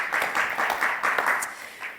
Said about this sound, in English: Round of applause, Elisa.